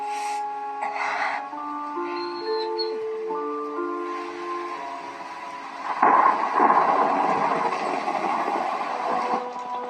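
Thunder from a storm rolls in after some tonal music, swelling into a loud, broad rumble at about six seconds that lingers and slowly fades.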